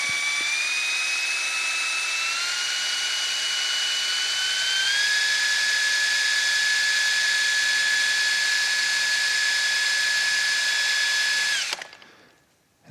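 An electric motor loaded by a resistor on its stator, in a regenerative braking demonstration, gives a steady high whine that steps up in pitch as it speeds up, holds, then cuts off sharply.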